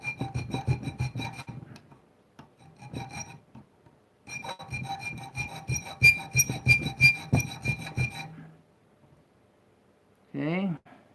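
A crosscut file rasps along the edge of a homemade blacksmith-forged knife in repeated close strokes, in bursts with short pauses, ending with a brief rising whistle-like squeal.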